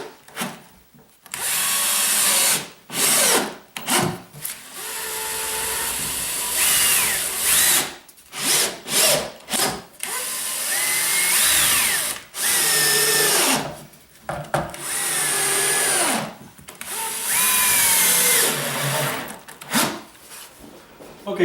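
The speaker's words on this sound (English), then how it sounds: "now I'm just going to screw the one part of the form onto the bottom" A power drill drives screws into a wooden form in repeated bursts of a few seconds each, the whine rising and cutting off with short pauses between runs.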